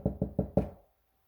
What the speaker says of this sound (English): And you hear this knock.